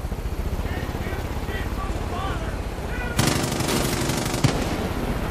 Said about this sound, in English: someone's shooting Major